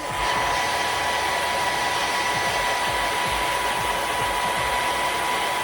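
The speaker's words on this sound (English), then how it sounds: "I'm gonna go ahead and blow dry it." A hair dryer blows steadily on thin wig lace, a loud, close, continuous whooshing roar with a slight motor whine that holds constant throughout with no talking.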